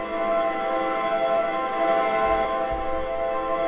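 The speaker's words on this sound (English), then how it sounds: "So here's the main tab with the analog bow sounds selected." Sustained synthesized bowed string pad from Output Analog Strings software, a dense, steady drone of layered string tones with a soft evolving texture, held at an even level throughout.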